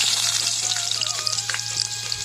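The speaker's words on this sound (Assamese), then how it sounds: "কেৰাহী এটা পাতি মই মিঠাতেল অলপমান গৰম হ'বলৈ দিলোঁ, আৰু ইয়াতে মই থেতেলি লোৱা নহৰু কেইফুটা দি দিলোঁ" Crushed garlic cloves fry in heating mustard oil in a wok, a steady close sizzle with small crackles and pops running without pause and no talking.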